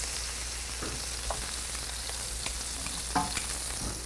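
Grass-fed Illinois steak browns in a hot pan with a steady, close sizzle and a few faint pops and clinks scattered through, with no voices.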